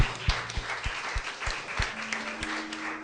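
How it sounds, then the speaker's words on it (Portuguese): A church congregation applauds during a worship service, a steady, dense patter of many hands clapping at moderate distance, with a low sustained tone running beneath. "Você pode aplaudir o Senhor Jesus?"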